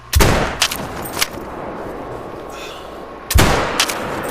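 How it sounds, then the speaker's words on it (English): Two loud gunshots from a 22-250 hunting rifle in theHunter: Call of the Wild, savanna setting, one at the start and another about three seconds later, each with a sharp crack and rolling echo over quiet ambient background. "I think I'm gonna shoot it with the 22-250"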